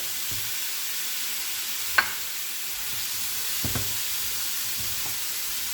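A courgette, beef and mushroom mixture with melting feta sizzles softly in a pan, a steady hiss broken by a few faint stirring scrapes and taps.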